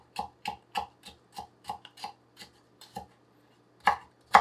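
A Cangshan Everest Series chef's knife chops through ingredients on a cutting board: about a dozen crisp, evenly spaced thuds, close and clear with no talking, then a short pause before a few final harder chops.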